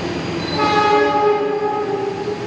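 A Pertamina fuel freight train passes through without stopping, its loud harmonic horn sounding over a heavy rumble.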